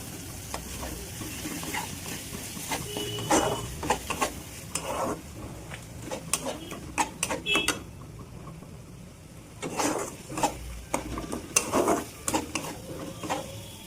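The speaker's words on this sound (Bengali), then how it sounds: "মশলাটা কষানো হচ্ছে" Spice paste stir-fried in oil in a pan for a green banana kofta curry, a low continuous sizzle under repeated scraping and clattering of a spoon against the pan, close up, bursts of stirring coming and going, no voices.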